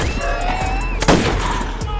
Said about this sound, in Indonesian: suara dari tembakan tadi membuat para zombie berdatangan